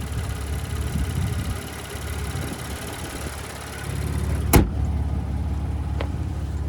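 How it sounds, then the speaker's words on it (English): 2025 Ford Ranger Raptor's 3-liter twin-turbo V6 idling with a steady low rumble, punctuated by a sharp click or thump midway and a lighter tick later. "So there's that 3-liter twin turbocharged V6."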